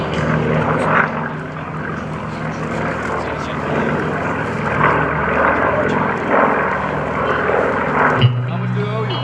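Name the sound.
warbird propeller aircraft taking off at airshow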